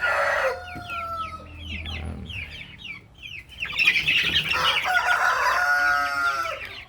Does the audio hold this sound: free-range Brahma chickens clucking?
yes